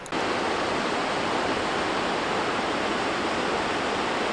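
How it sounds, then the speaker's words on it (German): A forest waterfall swollen with snowmelt roars in a dense, continuous rush of falling water, loud and close, with no other sounds. "Durch die Schneeschmelze kommt jetzt das ganze Wasser nach unten."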